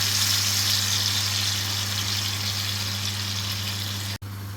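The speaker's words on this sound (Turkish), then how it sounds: "sosumuzu iyice şu şekilde köftenin yağında kızartıyoruz" Steady, dense sizzling of tomato sauce frying in meatball drippings, continuous and close, with a low hum underneath and no talking.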